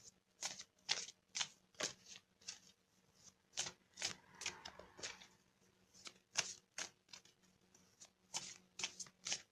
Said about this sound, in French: on va tirer une carte d'énergie de guérison